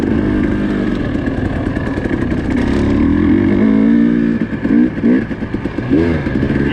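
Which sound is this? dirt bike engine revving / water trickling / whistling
dirt bike engine revving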